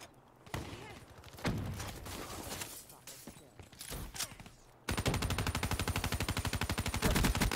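Rapid automatic gunfire from Black Ops 3, with scattered bursts early on and then a sustained, steady loud stream of shots in the second half.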